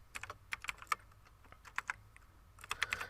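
Someone typing JavaScript code on a computer keyboard: quiet, irregular clusters of light key clicks spread across a few seconds, with no talking.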